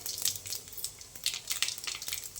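Mustard seeds, urad dal, cumin and fenugreek sizzling in hot oil for a moong dal sambar, giving a quiet crackle with sharp, irregular pops and spits that rise and fall in quick bursts.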